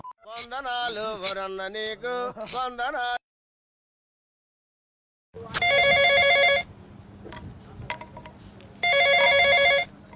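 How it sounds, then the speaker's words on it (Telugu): Voices and music are followed by silence, then a telephone rings in two loud, trilling bursts separated by a short gap. "ఫోన్ లిఫ్ట్ చేయి ఫస్ట్ రే పటాన్"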